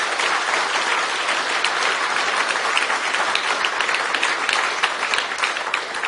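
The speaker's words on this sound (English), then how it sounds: "So please give them another huge round of applause." A summer school audience gives a sustained round of applause, dense and steady from start to finish with no pauses, crowd clapping close and loud.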